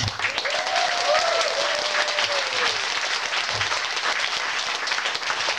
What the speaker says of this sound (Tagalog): Hala tayong inyong palakpak.